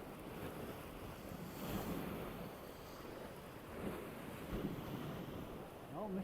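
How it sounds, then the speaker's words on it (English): Sea surf rolls in at Blackpool beach, a steady wash of waves with gusting wind noise on the microphone, fairly faint and continuous throughout. "There's a bit of surf down there, isn't there?"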